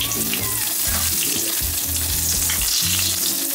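Garlic sizzles steadily in butter in a hot pan, a loud, continuous frying hiss with faint scraping and stirring under it, no voices.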